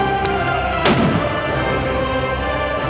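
A single sharp report from a 50 BMG rifle with a carbon fiber barrel and muzzle brake, fired at long range outdoors, with a loud crack followed by a lingering rumble under steady background noise.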